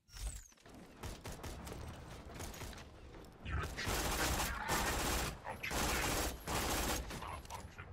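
Rapid automatic gunfire from a high fire-rate gun in Borderlands 2, long bursts of fast clattering shots broken by brief pauses, loud and close with mechanical reload clicks mixed in.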